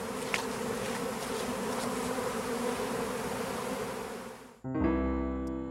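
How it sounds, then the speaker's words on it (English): Honeybees in a bee yard on a September day drone in a dense, steady swarm buzz close by, which cuts off abruptly near the end as a different tonal sound takes over. "Listen to these bees."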